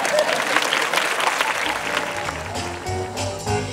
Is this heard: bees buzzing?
no